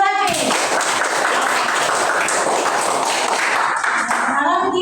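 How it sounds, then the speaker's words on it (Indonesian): An audience claps at a ceremony, a dense, sustained burst of applause from many hands, loud and steady for several seconds before tapering off. "Tepuk tangan dulu berarti."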